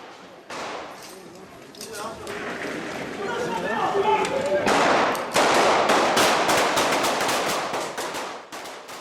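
Gunfire erupts at an outdoor press conference, with rapid, loud cracks bursting over crowd noise and voices, growing denser and more chaotic toward the end.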